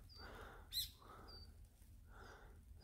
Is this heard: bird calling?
yes